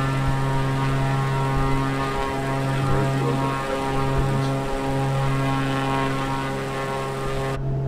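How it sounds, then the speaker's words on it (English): A propeller aircraft engine overspeeds, giving a loud, sustained, strongly tonal drone with steady harmonic whine that holds for several seconds, close and constant before cutting off abruptly at the end. "I don't like that engine overspeed."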